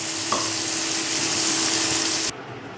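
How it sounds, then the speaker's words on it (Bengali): Onion and tomato sizzle loudly in a pan as they are stirred, a dense, continuous frying hiss that cuts off abruptly near the end. No voices are present. "পেঁয়াজ আর টমেটোটা একটু নাড়াচাড়া করে নেব"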